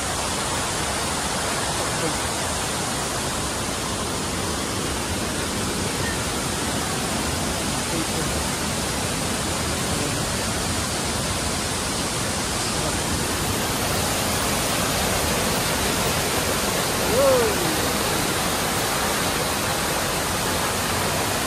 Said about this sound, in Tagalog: Pakinggan nyo ang lagas-las ng tubig.